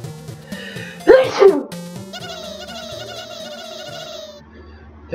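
A single person sneezes once in the background of a Lemmings Plus puzzle game, short and fairly loud over looping tonal game music and chiptune-like effects.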